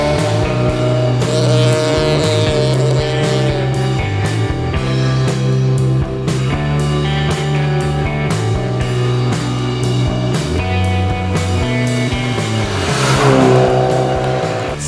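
A Honda CRX SiR with its VTEC engine drives hard, the engine loud and sustained under music, with revving and shifts and a brief tire squeal toward the end.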